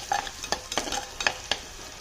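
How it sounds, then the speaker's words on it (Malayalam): Fish masala with green chillies is stirred in a frying pan over low sizzling, with a handful of sharp spoon scrapes and clicks against the pan in an uneven rhythm, close and fairly quiet. "ഈ സമയത്ത് നമുക്ക് കുറച്ച് പച്ചമുളക് ഇട്ട് കൊടുക്കട്ടോ"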